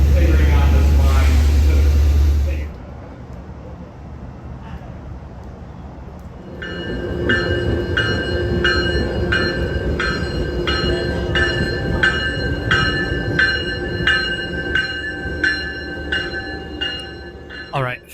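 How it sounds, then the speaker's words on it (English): A loud voice speaks briefly, then a Massachusetts commuter rail train bound for Boston rumbles along the rails with rhythmic clatter and ringing tones, steady and close. "finally on the train to Boston"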